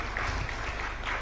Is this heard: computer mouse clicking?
no